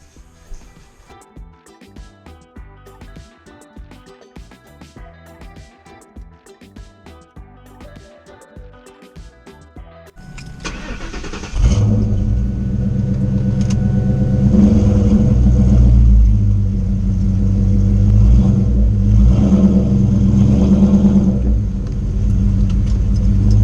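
A 1999-2004 Ford Mustang GT V8 fires up loudly after a stretch of clinking and shuffling, then settles into a steady, deep rumbling idle with slight revs as the car rolls up onto wood boards, close by.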